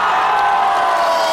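A concert audience at a town celebration in Kanevskaya gives a loud, dense ovation of applause and cheering, a continuous roar of clapping and shouts that fills the whole moment.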